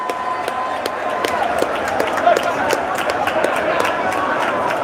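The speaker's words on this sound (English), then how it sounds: "The fans will applaud." Football fans applaud in a stadium at a Ghana versus Algeria under-23 AFCON qualifier, a steady wash of crowd noise with light rhythmic clapping under it.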